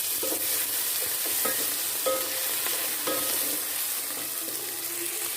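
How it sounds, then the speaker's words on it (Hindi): Browned onion fries with garlic-ginger paste in a pan for palak gosht, giving a steady close sizzle and repeated scraping stir strokes, with no talking. "अब इसमें हम लहसुन अदरक का पेस्ट डालेंगे और इसको हम फ्राई कर"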